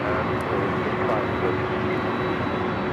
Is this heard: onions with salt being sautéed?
no